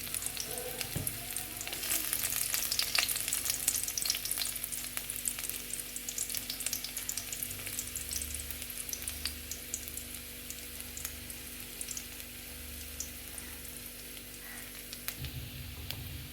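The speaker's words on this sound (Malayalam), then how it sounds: "എണ്ണ ഒന്ന് ചൂടായ ശേഷം അല്പം ചെറുള്ളി അതുപോലെ വെളുത്തുള്ളിയും ചോപ്പ് ചെയ്തിട്ടെടുക്കുക." Shallots and garlic fry steadily in hot oil, a continuous close sizzle with crackling bursts and occasional stirring scrapes, no voices present.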